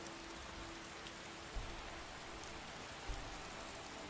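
Continuous rain in the video game Skyrim, an even, moderately loud hiss of falling drops with a couple of faint low thumps and no talking.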